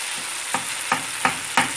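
Cheese fries in oil in a pan over high heat, giving a steady close sizzle with about five soft rhythmic scrapes of a utensil stirring, and no talking.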